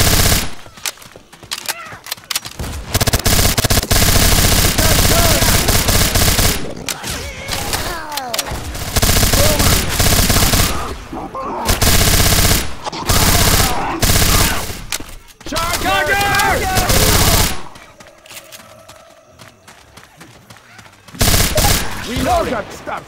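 Machine gun fire in Left 4 Dead 2 co-op play, sustained loud automatic bursts running for long stretches with brief gaps, mixed with heavy thumps and voices calling out over the shooting.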